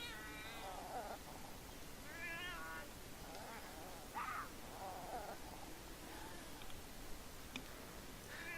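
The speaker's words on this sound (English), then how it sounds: "Found a stray cat hangout." Several cats meow in turn at a stray cat hangout in the video game Beyond Eyes, short rising calls scattered over a soft steady background, close and clear.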